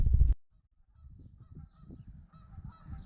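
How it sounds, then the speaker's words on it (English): A burst of loud Canada goose honks at the start, then softer, distant honking and chatter continuing in the background. "Sorry about the Canadian geese back there. They're gonna be making a lot of noise"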